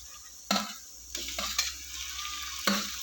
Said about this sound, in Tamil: வெங்காயம் வதங்கிட்டு இப்போ தக்காளியை போடுவோம்.